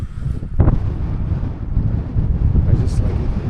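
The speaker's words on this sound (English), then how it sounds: "It is windy." Strong wind buffets the microphone at a frozen lake, a loud, continuous low roar with gusty surges, with a brief burst of speech partway through.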